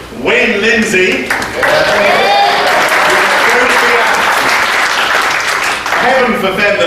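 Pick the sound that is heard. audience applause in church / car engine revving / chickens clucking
audience applause in church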